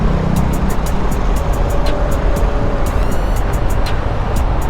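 Steady road traffic on the West Service Road on a busy Friday, a continuous dense rumble of passing cars and trucks with a brief air-brake hiss, loud and close throughout.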